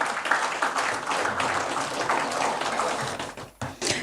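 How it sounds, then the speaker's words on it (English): An audience at a financial education event applauds, a continuous crackling patter of many hands clapping, fairly soft and even, with a brief dip near the end. "A big round of applause"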